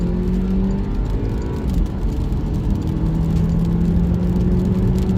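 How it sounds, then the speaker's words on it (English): The 4-cylinder engine of a Porsche Macan accelerates while merging onto a highway. A steady, loud interior drone with a rising engine tone is heard over road and tire rumble, and no one speaks. "That's a very nice sounding 4-cylinder."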